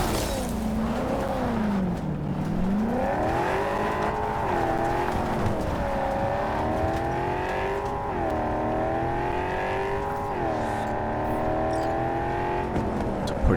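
A car in Cyberpunk 2077 accelerates hard, its engine note climbing and shifting through gears in a loud, continuous roar with faint tire noise, sustained throughout with no talk.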